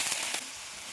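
Onion frying in hot oil for a radish, potato and dried fish curry, a bright close sizzle with a few crackling pops over one second.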